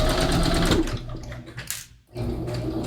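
A sewing machine hems fabric with a double needle, running in a fast, rapid stitching chatter close by, easing off briefly, pausing almost to silence, then starting up again.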